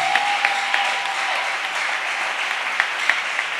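A church congregation claps and applauds together during a thanksgiving service, a steady, dense wash of hand claps that holds at an even level from start to finish.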